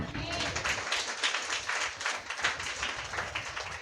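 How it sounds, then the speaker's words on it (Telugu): A worship congregation at a Sunday church service claps together in a dense, continuous rhythmic patter, loud and close, with a preacher's voice speaking over the clapping. "గట్టిగా చప్పట్లు కొట్టు."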